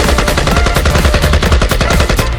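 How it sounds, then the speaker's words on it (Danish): Rapid gunfire from a rifle indoors, a dense burst of loud, close shots repeating quickly for the whole stretch, with no talking. "Jeg skød lige et hul i loftet."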